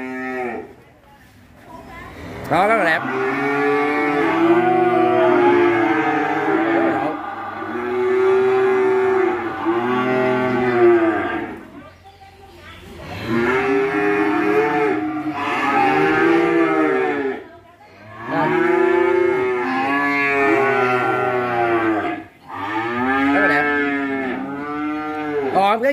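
Cattle at a Vietnamese cattle farm: loud, close, drawn-out moos in repeated long bursts from one or more cows, with a person briefly talking between calls.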